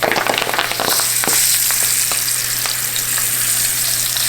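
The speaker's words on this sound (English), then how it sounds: "I'm just gonna fry a couple basil leaves just for an extra fun little thing" Basil leaves frying in hot oil, a steady close sizzle throughout with a few sharp crackles and pops, no talking.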